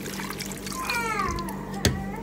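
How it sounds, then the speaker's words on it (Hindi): Water pours into a cooking pot holding onion, ginger, garlic and mutton, a faint trickling splash under steady background noise, ending with a brief sharp clink. "हम इसमें पानी ऐड कर लेंगे"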